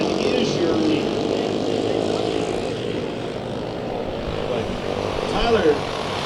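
Dirt track race cars at a Kern County Raceway Park heat race roar together at speed, a loud, steady engine drone with rising throttle, a commentator talking over it.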